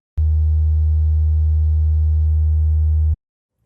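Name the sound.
Moog modular synthesizer sine wave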